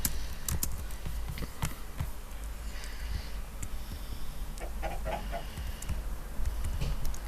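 Chickens cluck in a video game chicken farm, with scattered short clucks and clicky taps over a steady low hum, fairly faint and without talk.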